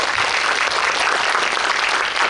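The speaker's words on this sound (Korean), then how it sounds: "박수 한번 주세요, 정말." Steady, loud audience applause filling a cinema during a director and cast talk for the Korean basketball film Rebound, dense continuous clapping with no voices.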